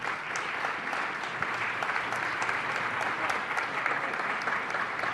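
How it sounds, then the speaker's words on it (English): An audience at a city council meeting claps in sustained, dense applause for several seconds, steady and fairly close with no voices standing out. "Let's give them a big round of applause."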